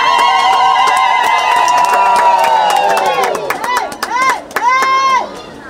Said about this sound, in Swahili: Haya, vigelegele na makofi.